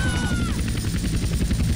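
Helicopter flying over water in the GTA Trilogy video game: a steady, loud rotor thrum with rapid low pulsing that holds for under two seconds, with a brief whistling tone fading out early.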